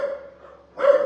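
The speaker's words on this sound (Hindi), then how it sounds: "देखो मेरा कुत्ता भी भौंक रहा है" A dog barks twice, close and loud: one sustained bark that fades, then a sharper second bark, with no voices present.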